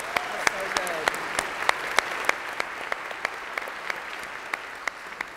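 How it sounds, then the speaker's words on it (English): Congregation at a Sunday morning church service clapping in a steady round of applause, with distinct individual claps standing out sharply over the softer crowd wash. "Let's give them another round of applause."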